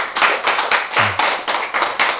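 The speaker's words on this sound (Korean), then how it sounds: "박수." A church congregation claps in a steady rhythm, about eight sharp, close hand-claps in a row, loud and without talk.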